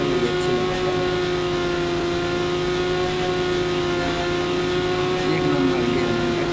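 A Kawasaki Ninja H2R motorbike engine in the Indian Bikes Driving 3D video game holds a steady, high, buzzing drone at constant pitch, loud and unbroken throughout.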